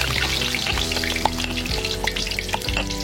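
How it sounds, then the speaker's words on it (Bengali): Food sizzles lightly in hot oil, likely seasoned with turmeric and salt, a steady crackling hiss broken by utensil scrapes and clinks, close and fairly loud throughout. "তেলটা গরম হয়ে গেছে, হয়ে গেছে, দিয়ে দে, দিয়ে দে, হালকা ফ্রাই করবি"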